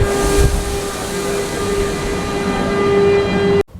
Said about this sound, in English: When you're taking the metro system in Mexico City, it doesn't tell you what your stops are